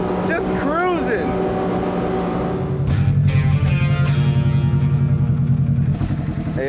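A turbocharged Ford Expedition drives along with a loud, steady engine drone and road roar, a rising whine and chatter up front, then a heavier surge of engine noise that holds throughout.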